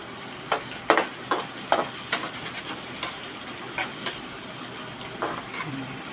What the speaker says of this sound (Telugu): నూనెలో ఉల్లిగడ్డలు పచ్చిమిర్చి చిట్టపట్టలాడుతుంది